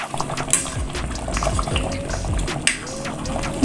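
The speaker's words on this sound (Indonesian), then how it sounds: "Ini sudah mendidih ya Bunda." A pot of asam padeh, a sour spicy tuna sauce, bubbles at a close, lively boil with irregular popping and gurgling under a steady liquid rumble.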